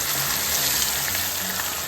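Steady, bright sizzling of ground masala paste frying in hot oil for egg curry, continuous and close, with a soft hiss and no voices.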